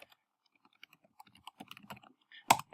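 Keys on a computer keyboard are typed in a quick, irregular run of light clicks, building toward a sharper, louder keystroke near the end, heard alone and close.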